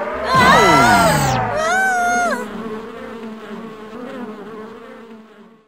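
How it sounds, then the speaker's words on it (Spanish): Cartoon swarm of bees buzzing after a disturbed hive, a loud burst of whooshing, swooping buzz tones at the start that settle into a softer, steady hum fading toward the end. "Las abejas nos atacarán."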